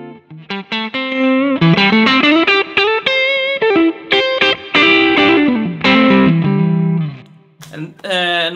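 Electric guitar played through a Tube Screamer-style overdrive pedal set to its modern mode with extra bass, giving a lightly driven, warm tone with single-note runs and chords, loud and close.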